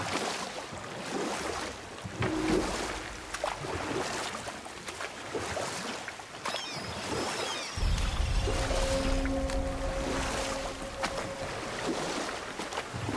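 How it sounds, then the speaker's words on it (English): Rowing a boat in the video game God of War: steady water sloshing and splashing from oars, with wind and ambient surf, joined midway by a sustained tonal game music drone. "Keep rowing towards the statues of the oarsmen, then thread past between them."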